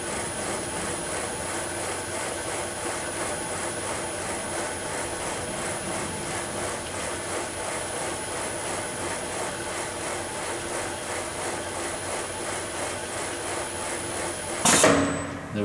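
A Sunnen ML-2000-DF power-stroked horizontal honing machine runs its auto cycle with a steady, close mechanical drone and faint repeating stroke texture, ending in a brief louder burst of noise.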